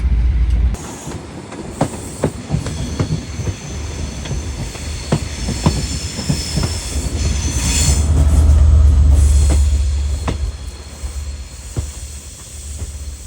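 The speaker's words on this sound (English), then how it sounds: "here we are on Midland Pullman in Shropshire, heading on to Edinburgh" Midland Pullman train running through Shropshire, a steady rumbling roll with clicking wheel beats on the rail joints and a rising swell of noise partway through, heard from on board.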